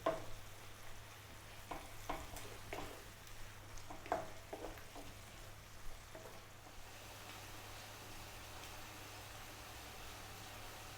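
Spicy chicken hearts in oyster sauce simmer in a pan with a splash of water, giving a steady close sizzle broken by a few sharp stirring scrapes, with no talking.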